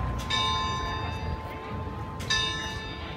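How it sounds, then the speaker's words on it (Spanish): Church bells in Curaçao ringing out with two clear strikes about two seconds apart, their tones lingering and ringing on over a steady background hum. "Están dando las campanas"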